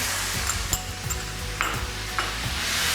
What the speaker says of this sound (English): I'm gonna quickly add the sauce